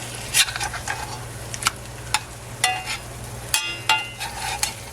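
Eggs frying in a cast iron skillet, a steady low sizzle with intermittent spatters and pops, close and moderately loud, no voices.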